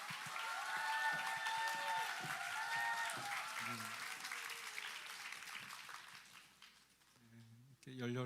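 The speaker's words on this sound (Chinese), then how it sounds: "让我们用热烈掌声来欢迎祝福" Audience applause welcoming a pastor to the stage at an evening church service, a dense continuous clapping that holds for several seconds, then thins out and fades toward the end.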